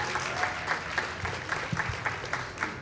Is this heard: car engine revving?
no